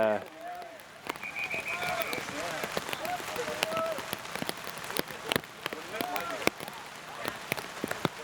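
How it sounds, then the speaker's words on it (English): Rain picks up during an outdoor ultimate frisbee game, a steady patter with crackling drops hitting surfaces, while people talk over it. "Rain's picking up here"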